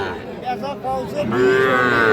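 A crossbred cow moos at the Aftabganj cattle market, a close, drawn-out low call that swells and grows louder toward the end, with faint market background beneath.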